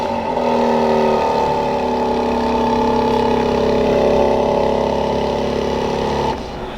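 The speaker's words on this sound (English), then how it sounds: "this model does have remote start, so you can triple tap that lock button" A 2024 BMW X3 M Competition sits idling after a remote start. Its engine holds a steady, close, fairly loud hum with layered tones, then cuts out abruptly near the end.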